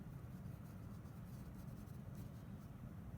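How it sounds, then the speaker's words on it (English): White colored pencil lightly re-sketching over a layered colored-pencil drawing of a pepper on paper, a soft steady scratchy rasp that continues evenly throughout without pauses. "Just go back with your white colored pencil and very lightly re-sketch in"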